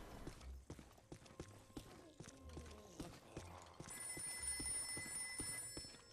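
Telephone in Ghostbusters: The Video Game starts ringing partway through as a steady, bright electronic trill, following hoof-like clopping and game sound effects, moderately loud and alone without talk.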